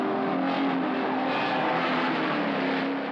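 Ford Falcon GTHO racing at Bathurst in the 1970 Hardie Ferodo 500: a steady, broadband engine roar at high speed, held evenly at moderate loudness for the whole stretch with no voices.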